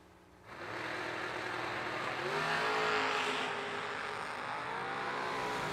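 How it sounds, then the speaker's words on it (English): Roadster-class Mustang and Camaro drag racing, a loud sustained engine roar bursting in after half a second of quiet and holding steady at full volume as the cars run, with no talking. "Lucky Larry in the Roadster Mustang, 577 the dial, trying to hold off the Roadster Camaro of Brian Bennett, dialed 508."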